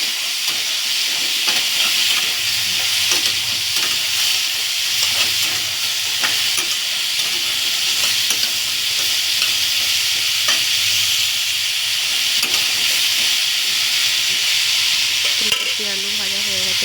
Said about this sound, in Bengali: আলু দিয়ে দিচ্ছি, আলুটাও ভেজে নিচ্ছি।